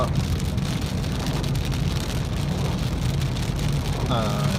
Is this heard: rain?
yes